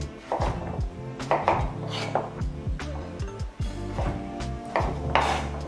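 Knife chopping butternut squash on a cutting board for soup, a series of quick irregular thuds and cuts, close and fairly loud.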